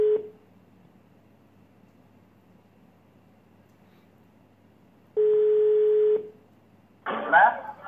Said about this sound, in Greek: τώρα πάραμε τη φίλο τηλέφωνο, Νίκο τη λένε